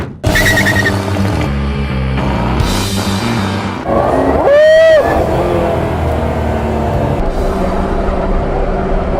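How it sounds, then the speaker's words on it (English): A Jaguar C-X75 hybrid supercar built with Williams engineering runs on a racetrack, its engine droning and shifting pitch through changes, with a sharp rising whine midway as it accelerates past. "So today we are here in the racetrack to drive the CX75, the villain James Bond car"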